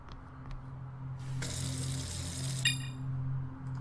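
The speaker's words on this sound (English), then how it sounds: "Can I fill it up with water?" Tap water running into a cup in the video game Richard & Alice, a steady broadband rush that starts partway in and continues under a low background hum, fairly close and moderately loud.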